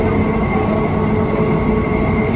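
Inside a driverless Riyadh Metro train, riding in the rear car: a loud, steady rumble of wheels on rail with a continuous motor hum and faint rhythmic clatter, and no talking.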